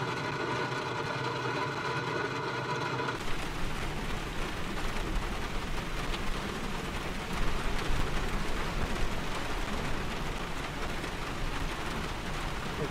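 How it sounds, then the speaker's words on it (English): Heavy rain in Manzanillo, a loud, dense, continuous hiss of drops pounding down steadily throughout, with a faint engine-like rumble underneath. "it's raining hard in Manzanillo"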